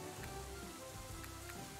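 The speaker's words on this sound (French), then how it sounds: "Moi j'ai de la pluie et j'ai pas de musique." Steady rain patters in the shop-management video game Shoppe Keep 2, a soft, continuous hiss with faint droplet ticks and no other sounds.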